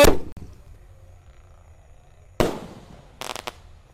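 Roman candle fireworks launch outdoors at night: a sharp loud burst, then a second launch blast followed by a quick cluster of crackling pops, with quiet gaps between.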